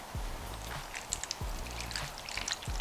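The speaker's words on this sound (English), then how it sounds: "we're going to put our whetstone right inside, and we're going to fill it with water." Water poured into a container holding a whetstone to soak it before knife sharpening: a steady splashing trickle with small gurgles and drips, close by and fairly quiet.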